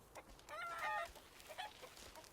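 Chickens cluck in the video game Baby Steps, a short burst of rising, overlapping hen calls in the middle, with fainter scattered clucks around it and no talk.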